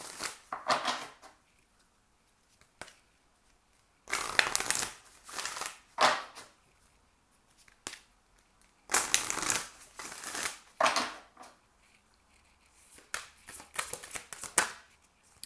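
Oracle cards are shuffled by hand in several close, crisp bursts of riffling and flicking, separated by quiet pauses.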